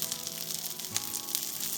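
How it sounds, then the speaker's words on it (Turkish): Steady crackling sizzle of homemade cheese-filled chicken sausages frying in hot oil, close up, with occasional louder pops and spits. "Onları burada tüm yüzeyleri eşit bir şekilde pişene kadar kızartacağım."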